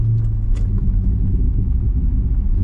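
A car engine rumbling at idle with a throttle controller fitted, low steady drone close by with a slight surge partway, no voices.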